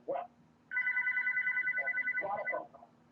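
A telephone rings for an incoming call with a steady electronic trill lasting about two seconds. Brief voice fragments come just before it and just after it.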